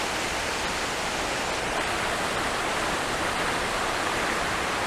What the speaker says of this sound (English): The water's quite loud, a lot of water today.